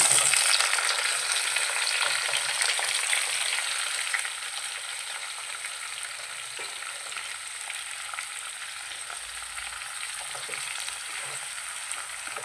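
Tomatoes fry in hot oil for a tomato pickle, giving a steady, close sizzle with fine crackling that eases slightly partway through and continues without any voices.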